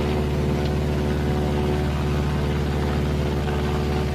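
Twin radial piston engines of a WWII-era B-26 bomber drone steadily and loudly in flight, with the right engine throttled back, a dense continuous low rumble with no voices.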